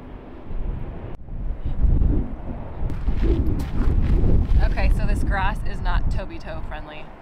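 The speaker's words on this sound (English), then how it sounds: "not like really windy, but there's wind" Gusty desert wind buffets the microphone in a low, rumbling roar that swells and eases throughout, with scattered sharper sounds and voice-like chirps showing toward the end.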